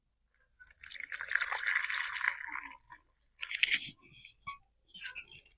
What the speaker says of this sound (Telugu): నీళ్ళు పోసుకుని అయితే కలుపుకుందాం పిండిని